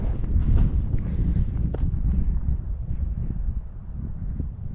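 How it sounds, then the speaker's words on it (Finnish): Wind gusting outdoors in Urho Kekkonen National Park in Finland, buffeting the microphone with loud low rumbling that eases slightly toward the end, no voices. "Vähän tuulee."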